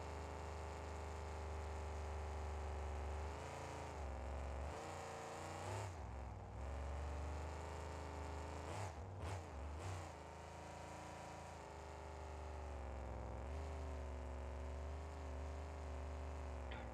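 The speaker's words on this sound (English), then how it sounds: "It's a monster truck. You can't not take the jump." Monster truck engine in the driving game BeamNG.Drive, a continuous low droning hum with rising and falling pitch as the throttle changes, briefly fluttering twice, heard alone at a modest level.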